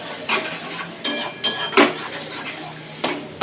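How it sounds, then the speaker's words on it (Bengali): A spoon stirs egg kosa curry in a pan, producing close scraping strokes with clinks against the metal at irregular intervals, some louder bursts and short pauses between them, and no voice. "এবার আমি ভালো করে মেশাতে থাকবো।"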